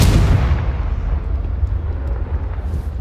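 A Confringo spell explodes in Hogwarts Legacy, a loud close blast with a heavy low boom that rumbles and slowly fades over about three seconds.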